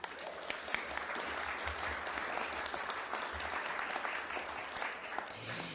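An audience at a poet laureate inauguration in Ventura County claps steadily throughout, a dense sustained wave of applause from a sizable crowd in an indoor hall.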